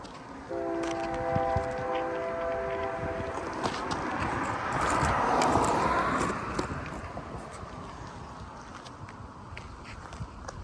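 A multi-tone K3L horn on a CN diesel freight locomotive sounds a long blast close by, followed by the rumble and clatter of a passing train.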